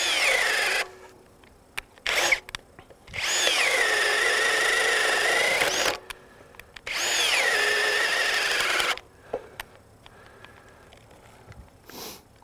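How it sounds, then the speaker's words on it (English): A Ryobi 18V ONE+ HP compact brushless 1/2-inch drill/driver whirs in three sustained bursts of a few seconds each, steady high-pitched motor whine with short quiet pauses and small clicks between runs. "This drill's hot, so let's just give it a little bit more"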